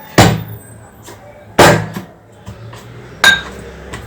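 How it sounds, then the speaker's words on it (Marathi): A wooden pestle pounds boiled potato dough in a stone mortar while making fasting potato papad: three heavy, close thuds roughly 1.5 seconds apart, with lighter knocks between them and no talking. "याला आता बत्त्याने, खलबत्त्यामध्ये घाव घालायचा आहे."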